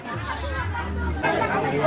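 Dense crowd chatter at Nageshwar temple in Dwarka, Gujarat, a steady babble of many overlapping voices filling the space, close and continuous throughout.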